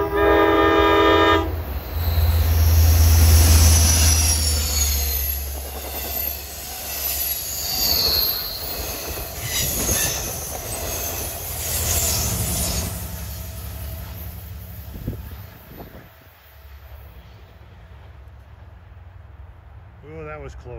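Long Island Rail Road train passing on the Montauk Branch between Great River and Oakdale, a loud close rumble with a brief horn blast and screeching wheels that fades as the train moves away, voices talking over it.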